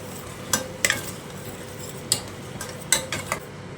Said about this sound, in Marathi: तर इथे आपलं वाटणसुद्धा परतून झालेलं आहे